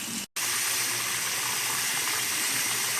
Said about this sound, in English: You hear the water running.